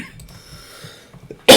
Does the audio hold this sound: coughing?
yes